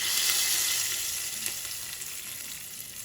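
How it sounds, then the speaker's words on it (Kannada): Tempering spices for snake gourd kootu crackle and sizzle steadily in hot oil, a dense close frying hiss with occasional pops, fading slightly, no voices. "ಒಗ್ಗರಣೆ ಸಿಡಿತಾ ಇದೆ"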